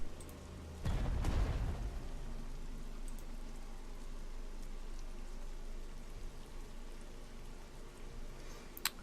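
Steady rain falls at night in the World War II strategy game Spectre of Communism, a soft constant patter after a brief deep thump at the start.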